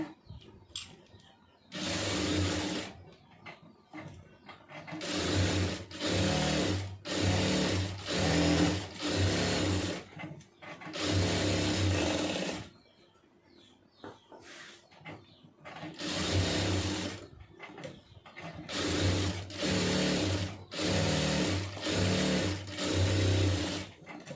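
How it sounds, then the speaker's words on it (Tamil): A sewing machine runs small stitches in repeated bursts of steady mechanical whirring, each lasting a second or several seconds, with quiet gaps between runs. It is close and clear and no one is talking. "இப்போ வந்து தையல் வந்து சின்ன தையல் வச்சுக்கிறோங்க"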